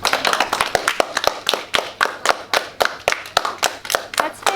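Audience clapping at a primary school honours program: individual hand claps land in an uneven, fairly close rhythm, with sharp separate slaps rather than a dense roar.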